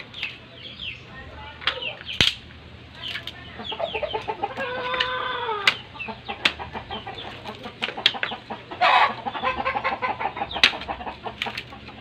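A fighting rooster clucks and squawks repeatedly up close, with bursts of wing flapping and sharp cries, while people talk intermittently nearby.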